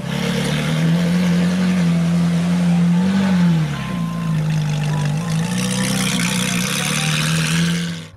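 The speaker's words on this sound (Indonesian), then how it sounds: "Di sini ada mobil Ferrari" Toy Ferrari car giving off a loud, continuous revving engine sound that holds steady with brief dips in pitch, heard alone and close.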